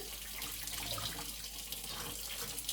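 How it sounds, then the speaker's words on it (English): Hot water pours steadily from a kitchen faucet into a clean sink, a constant close hiss and splash with faint dripping flickers and no voices. "I have my hot water going."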